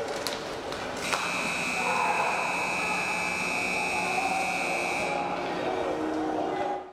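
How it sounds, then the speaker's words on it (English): A sustained end-of-game buzzer blares through a junior hockey arena at a GOJHL scrimmage, a steady loud horn tone holding for about five seconds before cutting off, with crowd and rink noise underneath. "He buries it, but did he beat the buzzer? Let's listen to the sound in the arena."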